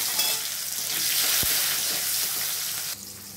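Chopped onions sizzle steadily in hot oil alongside potatoes and a bay leaf, a close, continuous frying hiss with one sharp clack near the middle and a slight drop in level toward the end.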